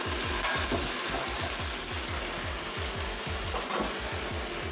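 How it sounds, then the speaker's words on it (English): Leeks sizzle in a pan over medium heat as cherry tomatoes are added for a lobster linguine, a steady frying hiss with rhythmic scraping strokes of stirring throughout. "So now it's time to add our cherry tomatoes."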